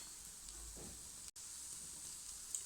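A garbanzo lentil puran poli cooks on a hot pan over medium heat, giving a faint, steady hiss and soft sizzle with a brief dropout near the middle.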